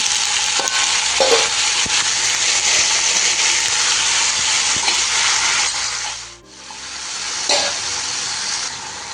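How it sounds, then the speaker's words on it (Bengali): Potatoes frying in mustard oil with chilli and nigella seeds for white potato curry, a loud continuous sizzle with repeated spatula stirring and scraping, easing briefly before resuming. "এবার একটু আলুগুলো দিয়ে দিচ্ছি"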